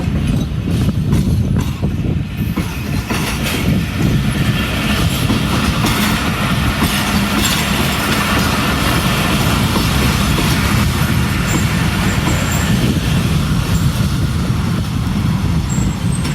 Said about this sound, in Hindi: पता नहीं क्यों ब्रेक अप्लाई कर लिए ट्रेन ने